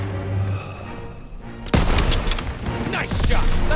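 Gunfire in a Call of Duty: WWII battle, quiet at first, then a sudden loud burst of shots at the midpoint followed by sustained, dense firing and explosive booms close by.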